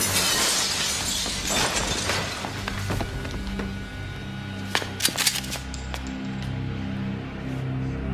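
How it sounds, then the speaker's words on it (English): Gunfire in a tense crime-drama scene, with several sharp cracks and a burst of rapid reports over a low rumbling background, punctuated by brittle breaking sounds. "Shots fired!"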